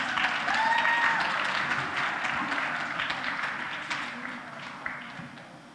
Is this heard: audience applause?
yes